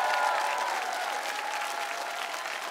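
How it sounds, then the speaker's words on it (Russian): A television studio audience claps in a sustained, even round of applause, fairly full and close, with a faint tonal hum running underneath. "Наши аплодисменты зрителей всей сотни."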